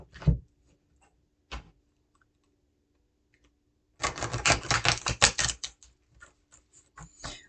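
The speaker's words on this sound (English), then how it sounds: "I want to give the cards a really good shuffle today" A deck of tarot cards is shuffled close by: a couple of isolated taps, then a dense riffle of rapid crisp clicks and flutters, followed by a few softer settling taps in an otherwise quiet room.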